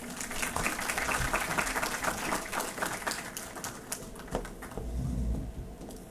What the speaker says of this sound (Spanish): Adelante, un aplauso por favor.